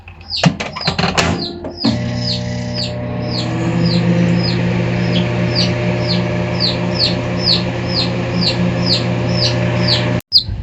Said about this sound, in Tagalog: ang maingay namin, oh. Ang sisiw.